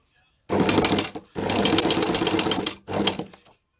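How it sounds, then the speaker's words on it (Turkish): A sewing machine runs zigzag stitches over elastic for a face shield in three loud, close bursts of rapid mechanical chatter separated by brief stops. "Yaklaşık 2 santim lastikle şeyi üst üste getirip ben bunu zigzakla dikiyorum."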